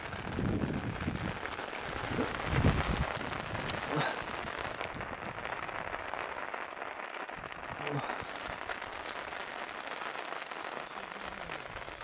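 Rain patters steadily on a surface at Batlava Lake, Kosovo, a constant fine hiss with scattered louder drops, fairly close and moderate in level.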